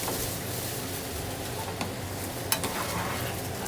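Thick ramen noodles stir-frying in a pan with sauce and spices, a continuous close sizzle broken by a few sharp utensil clicks as the noodles are stirred.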